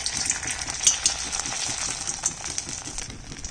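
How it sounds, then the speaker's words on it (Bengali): Small vegetable balls deep frying in refined oil, a continuous bright bubbling sizzle with occasional pops and spatters, close and fairly loud, no talking. "রিফাইন অয়েল দিয়ে দিয়েছি। এখন আমি এইগুলোকে ভেজে নিচ্ছি।"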